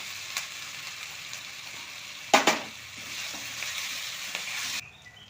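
Curry leaves and a puree hit hot oil in a pan for a drumstick vegetable curry, making a steady close sizzle that flares with a sharp crackling burst midway and then drops away.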